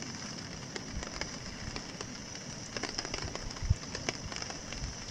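Rain falls at a lakeside camp on Red Rock Lake in the Boundary Waters, a steady close patter of drops with scattered sharper taps and a faint low rumble beneath.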